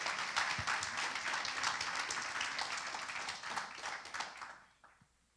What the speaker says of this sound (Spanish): Recíbanlo con un aplauso.